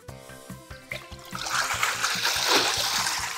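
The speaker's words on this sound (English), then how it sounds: "All the water just came out." Water gushes out of an opened container in a rising, splashing rush that builds to a loud pour, following a few rhythmic taps with music underneath.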